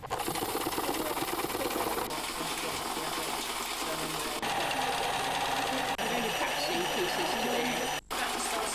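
Sewing machine fitted with an embroidery foot stitching continuously, a steady rapid mechanical whirr with brief pauses, close and fairly loud, in a 1980s craft holiday setting.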